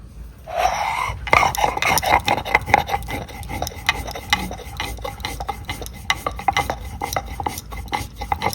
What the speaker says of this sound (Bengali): এখন আমার মা চাল বেটে নেবে